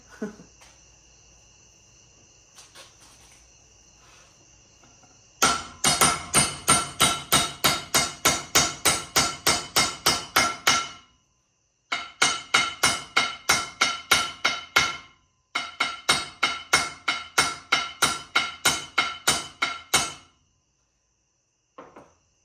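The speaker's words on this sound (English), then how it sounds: "put the U-joint in, put the cap in, hammer it flush" Rapid, ringing metal hammer strikes driving a U-joint cap flush into a driveshaft yoke, in long bursts of steady blows separated by short pauses, loud and close.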